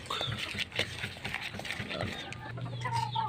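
Several chickens cluck and murmur close by in a busy farmyard, with short scattered calls over a low background hum.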